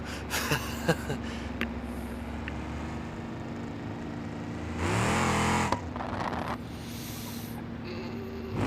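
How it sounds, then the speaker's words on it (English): A car engine in the BeamNG.drive driving game revs sharply under a touchy throttle, a steady drone swelling into a brief loud surge midway, with faint snorting blips early on. "This car's very touchy with the throttle."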